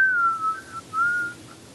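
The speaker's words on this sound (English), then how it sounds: "Don't whistle into the mic, please." A person whistles close to a microphone, two short wavering notes with a brief gap between them, alone over faint room hiss.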